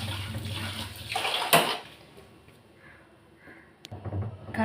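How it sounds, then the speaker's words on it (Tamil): Tamarind is worked into water in a cooking pot with soft, intermittent sloshing and swishing of liquid, close by and fairly quiet, with a few light splashes. "இப்போ வந்து நான் சட்டியில் புளியை கரைச்சி வச்சுக்கிறேன்"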